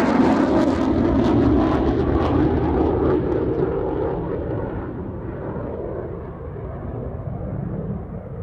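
A Eurofighter Typhoon jet flies at the Farnborough airshow, a loud continuous roaring rumble that slowly fades and dulls as the aircraft moves away.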